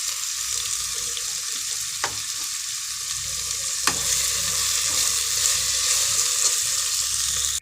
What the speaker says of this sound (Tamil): இதோட உப்பையும் கொஞ்சம் வதக்கி கொடுத்துடலாம்